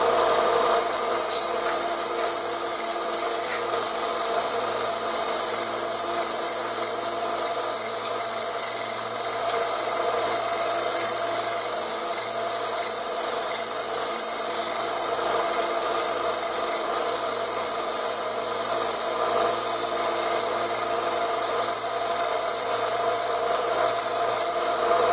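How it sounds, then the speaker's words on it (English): A part from an 1851 Navy single-action revolver is ground down, a steady, unbroken abrasive hiss and rasp that runs loud and close for the whole stretch with no pauses. "I'm going to grind this one up a little bit more."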